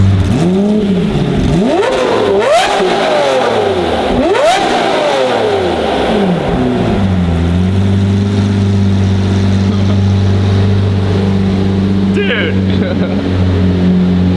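A Lamborghini Murcielago's naturally aspirated engine revs hard in a parking garage, two big rising and falling blips that echo loudly, then settles into a deep rumbling idle.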